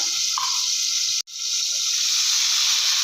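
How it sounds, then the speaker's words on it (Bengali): Mustard paste, ground with chili, goes into hot oil in a pan while cooking Parsi fish, producing a loud, steady close-up sizzle and hiss with one brief dropout partway through. "আর দিয়ে দিলাম সর্ষে বাটা"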